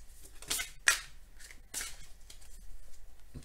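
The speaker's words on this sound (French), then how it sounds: "Je vais demander une carte conseil au tarot de Nicoletta Ceccoli pour terminer ce" Tarot cards being shuffled and drawn at a table during a reading: a few quick crisp riffles and card flicks, close and fairly quiet, with soft handling noise between them and no talking.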